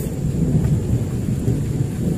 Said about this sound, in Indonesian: banyak kilat, petir tuh.